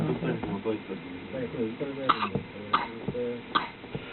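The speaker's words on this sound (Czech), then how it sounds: "kašle tady dítě" A child coughs in a few short, sharp bursts, set among steady adult conversation in Czech that carries on around and between the coughs.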